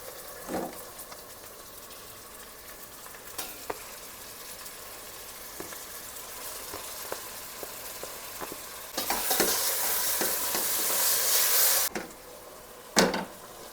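Mutton pieces with onions frying in oil in a home kitchen pot, a soft steady sizzle broken by scattered stirring scrapes and clanks, with a brighter burst of sizzling partway through.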